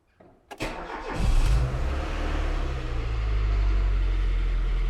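An old car, just brought out of storage, cranks over and catches, then settles into a steady, loud, rumbling idle close by.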